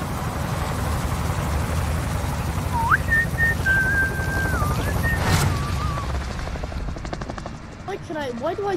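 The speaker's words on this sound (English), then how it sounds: "what song you were whistling there?" Someone whistles a tune over a steady rumbling background, a single sustained melodic line with slides and held notes lasting a few seconds, then faint whistled fragments near the end.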